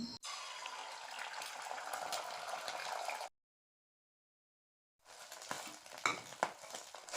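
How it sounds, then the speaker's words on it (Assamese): Beaten egg poured into a little oil in a pan sizzles steadily for a few seconds, breaks off into silence, then returns with louder crackles and utensil clatter. "এতিয়া মই পেনখনত অকণমান তেল দি লৈছোঁ, আৰু যিখিনি মই ডিম লৈছিলোঁ সেয়া ইয়াত দি দিম।"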